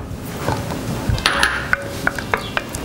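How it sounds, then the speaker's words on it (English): A spoon stirring shrimp rissole filling in a pot, soft scraping with a few light metallic clinks and taps against the pot's side, close and moderately quiet. "So stir it up"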